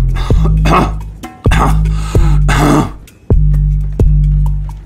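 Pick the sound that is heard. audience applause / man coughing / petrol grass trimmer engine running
man coughing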